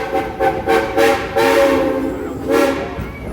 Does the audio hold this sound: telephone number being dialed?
no